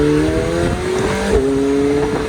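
A McLaren 720S sports car engine revs while driving, a loud, close, steady drone with rising pitch sweeps as it pulls through the gears, with no talk.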